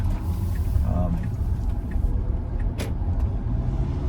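A FedEx delivery truck passes on a beachside road past oceanfront houses between Sullivan's Island and Wild Dunes. It comes through as a steady, loud, broad engine and tire rumble from start to end, with a brief swell midway.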